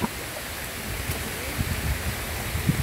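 Steady broadband rush of falling water, loud and continuous, with low rumbling surges underneath.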